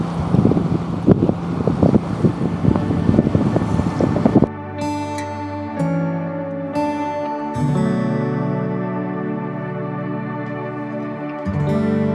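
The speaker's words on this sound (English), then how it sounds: "I'm covering the mic because it's still crazy windy" Strong coastal wind buffeting a microphone on a pebble shore, loud rumbling gusts at first, then muffled as the mic is covered while a steady tonal hum carries on.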